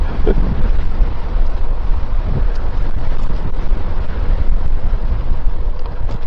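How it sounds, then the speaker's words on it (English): Wind buffets the microphone during a bike ride on a trail, a loud, continuous roaring rush with no pauses, filling the whole stretch without speech. "it's a little wind there"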